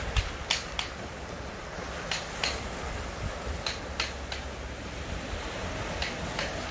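Ocean waves wash onto a beach in Bohol behind a house under construction on a clear day: a steady, soft surf hiss with scattered light ticks and taps throughout.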